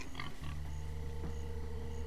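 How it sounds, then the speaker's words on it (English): Pigs grunt and oink in Minecraft: Story Mode, a couple of short snorts near the start over a faint, steady background hum. "Stupid pigs."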